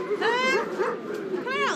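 A dog gives a couple of short, high yipping barks with a whiny edge, close and fairly loud, one burst at the start and another near the end.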